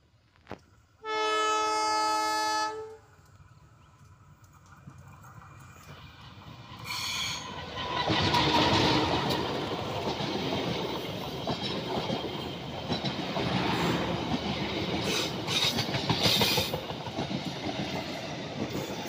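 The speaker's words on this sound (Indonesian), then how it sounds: "kereta api penataran teman-teman relasi Surabaya Kota Malang Litar yang pagi melintas jembatan metro di Kepanjen" A long train horn blast, then the loud rumbling and rhythmic clattering of the Penataran passenger train crossing the Kalimetro bridge in Kepanjen close by, with no talking.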